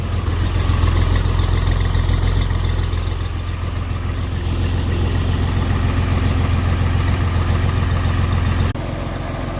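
Diesel engine of an older Trojan loader idling steadily after a cold start, a loud continuous low rumble with a faint knock, dropping slightly in level near the end.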